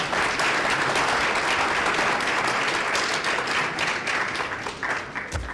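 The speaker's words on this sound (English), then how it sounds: "if we can please give him a warm round of applause." An audience gives a warm round of applause to a presenter after a talk, a thick continuous wash of clapping that holds steady and loud, then thins and tapers off near the end.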